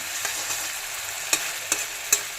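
Hot oil frying, a steady fine sizzle with a few sharp spatters or utensil clicks, close and alone without talk.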